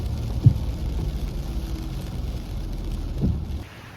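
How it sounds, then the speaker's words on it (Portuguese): Rain and gusting wind during a cyclone in Auckland, New Zealand, a steady broadband wash with a couple of louder gusts or thumps, close and continuous. "já tá ventando mais, já tá chovendo mais"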